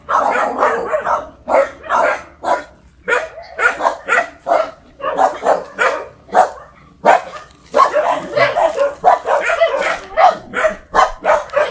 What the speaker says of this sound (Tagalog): Daming aso ni Nanay Elsa dito.